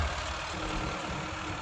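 A Swaraj tractor engine running steadily outdoors on rough ground, a continuous broadband diesel rumble with a low drone, moderately loud and unbroken.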